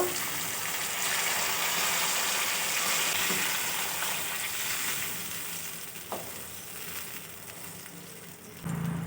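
Meat-stuffed pointed gourds sizzle loudly in a pan of spiced masala with added water, a steady, close frying hiss throughout with a small bump of stirring near the end.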